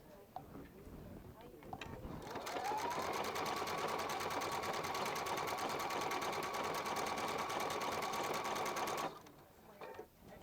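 A Viking Epic 2 sewing machine runs a steady, continuous stitching stretch of several seconds with a rising whir as it starts, close and clear, bracketed by brief handling noises.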